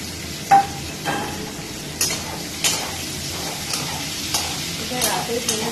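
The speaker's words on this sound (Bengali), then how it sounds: "তার আগে পেঁয়াজটা ভেজে নেব" Onions fry in a pan for baingan bharta, giving a steady close sizzle punctuated by about a dozen sharp stirring clacks of a utensil against the pan.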